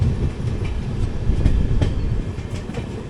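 The 12777 Hubballi Kochuveli Weekly Express rolls along the rails with a steady rumble and rhythmic clickety-clack of wheels over joints, heard loud and close from on board, with no voices.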